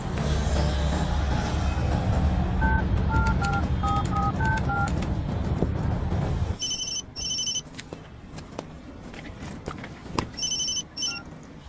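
A telephone rings loudly and close by, its repeated electronic ring tones in short bursts over background noise, with no talk.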